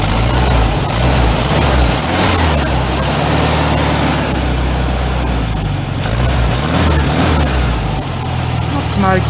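An old carburetted engine with a bad flat spot idles steadily in a garage, a loud, continuous low rumble with an even, unbroken throb throughout.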